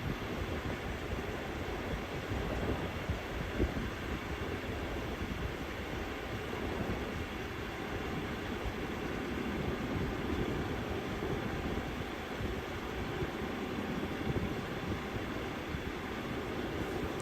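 Airbus A321neo engines in the X-Plane flight simulator, a steady broadband roar with a faint high whine, constant and unbroken throughout with no talk over it.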